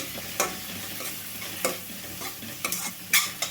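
Spices and cabbage sizzle and fry in a pan for a cabbage and yellow gram curry, with a spoon stirring and scraping in several quick, separate strokes over a soft, steady crackle.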